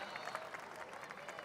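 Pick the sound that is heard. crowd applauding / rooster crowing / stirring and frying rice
crowd applauding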